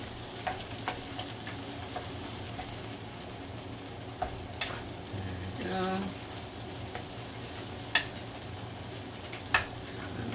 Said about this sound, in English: we're gonna let it toast until it's nice and brown